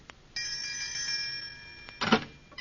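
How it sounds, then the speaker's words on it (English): A doorbell rings in an old radio drama, a steady sustained ringing tone that holds for about a second and a half, followed by a brief muffled knock or clatter, with no talk. "Now, this must be the doorbell."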